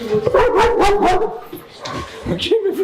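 At an animal shelter, a dog gives repeated close, loud barks and whimpering yips in an uneven rhythm while people speak French nearby.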